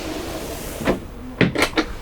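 A drawer slides open in the entrance area of a 2021 Dethleffs Alpa 6820 motorhome, close and clear: a soft scrape followed by a quick cluster of rattling clicks in a quiet interior.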